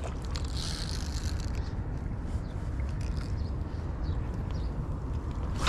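A fishing reel clicks and whirs in rapid ratcheting bursts over a dense low rumble of wind, rain or water while yellowtail fishing, with no voices.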